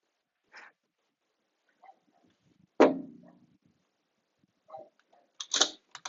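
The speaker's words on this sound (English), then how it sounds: "Sorry, my dog was being loud for no reason." A dog barks in a few short, sharp bursts spaced across several seconds indoors, close to the microphone, with quiet gaps between them and no talking.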